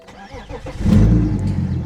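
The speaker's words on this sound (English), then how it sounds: "the car runs, it's a little bit loud" BMW car with an M57 diesel engine being worked on for overheating; the engine catches and settles into a loud, rough low rumble after a moment of quieter handling sounds.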